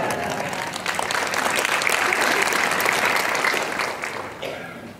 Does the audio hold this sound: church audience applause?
yes